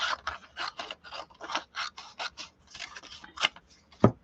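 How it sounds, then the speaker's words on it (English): Scissors snipping a strip off a paper envelope, a close series of quick crisp cuts in an uneven rhythm, ending with a sharper clack as the blades close. "Let me cut a strip of it off."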